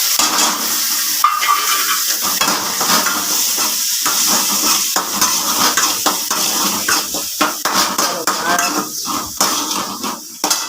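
Tomatoes are stirred into a hot, sizzling pan while rava upma is being cooked. A utensil clatters and scrapes irregularly against the pan over a steady, soft hiss, with no talking.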